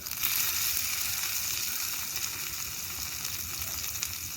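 Onion and tomato sizzle steadily as they fry and are stirred in a pan while a Gedi snail curry is cooked, making a continuous close hiss with no talk.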